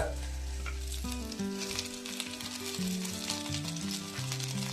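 Oil sizzles steadily in a pan while upma is being made, a continuous close frying hiss with background music playing over it.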